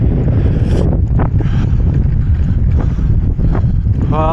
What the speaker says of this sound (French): il y a du vent qui nous déséquilibre